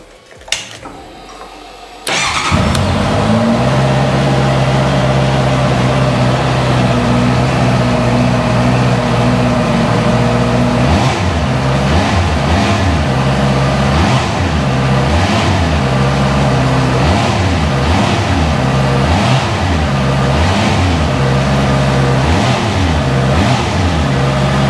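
A low-mileage Honda CB650F motorcycle engine cranks and fires, then settles into a steady, close, even idle with light rhythmic revving blips later on, no voices over it.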